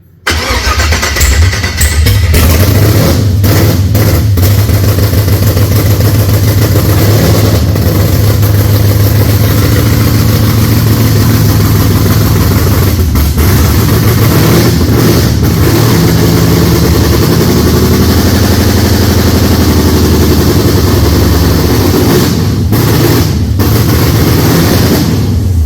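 A Holden HZ with a swapped LS V8 fires on its first start and settles into a loud, steady, rough idle that runs on without a break. The engine sits close and dominates throughout, and nobody speaks.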